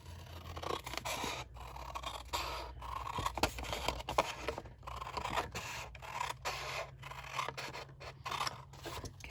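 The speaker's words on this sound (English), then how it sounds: "So I'm going to cut here, and then I'm going to just cut straight up." Old sharpened scissors snip through paper for a Post-it note holder, a quiet, steady run of close crisp cuts and rasping slides.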